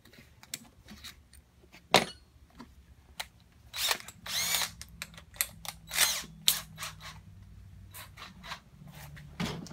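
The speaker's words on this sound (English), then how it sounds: "Now I'm going to drill this one way on the corner here." Repeated bursts of a power drill with a 1¼-inch hole saw cutting through a plastic tote, short whining runs separated by pauses, close and fairly loud with no talking.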